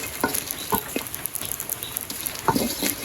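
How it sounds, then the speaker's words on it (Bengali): Banana flower and garlic frying in a blackened iron wok, a steady close sizzle with scattered stirring scrapes and taps. "এই যে মোচ আর রসুনটা ভালো করে ভেজে নিলাম"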